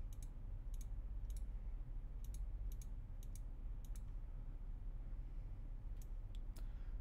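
Mouse clicks while playing PC Building Simulator, sharp single and double clicks in irregular clusters over a steady low hum from the computer, close and clear, with no speech.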